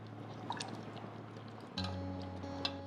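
Tamarind water poured into a simmering Tirunelveli-style mango and drumstick sambar: a soft, steady liquid pour with faint drips and a slight shift in tone partway through, quiet and close, with no talking.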